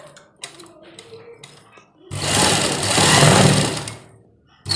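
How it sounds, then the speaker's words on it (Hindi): A sewing machine stitching around a pocket on a kurta: a few short taps and clicks, then one sustained loud mechanical whir of rapid stitching lasting about two seconds before it stops, with one more brief burst at the end. "हमें इसके चारों तरफ सिलाई लगानी है"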